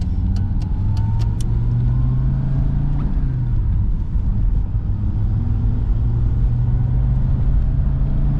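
An Audi Coupe drives along a road, its engine rumbling low and steady from inside the cabin with a shift in pitch as it accelerates, accompanied by constant road and tire noise.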